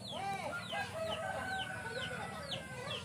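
Chickens at a zoo in Nabire, Papua Tengah, cluck and call repeatedly in short, rising bursts, close and fairly faint over low background rumble.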